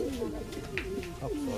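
Pigeons in a loft, racing birds, giving soft repeated coos close by with some faint rustling and background voice murmur.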